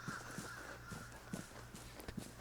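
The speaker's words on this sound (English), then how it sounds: "Those birds mean somebody got close to an exit that another person was already close to." Crows cawing near an exit in the multiplayer survival shooter Vigor, a few short, faint calls scattered over a low, steady ambient background.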